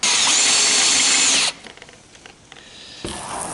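A power drill drives a screw into a trailer tailgate, running loud and steady for about a second and a half before stopping abruptly, then faint handling noise and a brief renewed rise near the end.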